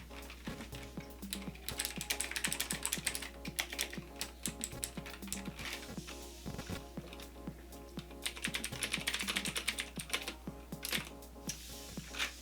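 Rapid, steady typing on mechanical keyboards with clicky Cherry MX Blue and mechanical-membrane hybrid switches, a dense near stream of sharp clacks with a faint low hum underneath and no talk.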